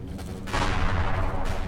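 Spaceship guns fire in Empyrion Galactic Survival, a dense, sustained barrage of rapid shots that jumps in loudness about halfway through and holds steady to the end.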